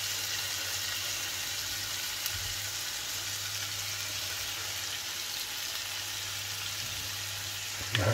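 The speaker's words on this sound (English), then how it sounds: "I'm just going to brown this on both sides, turning it over a minute, couple minutes" Pieces of beef for stew sizzle steadily as they brown in a hot pan, a constant close frying hiss with a faint low hum beneath and a brief clatter at the very end.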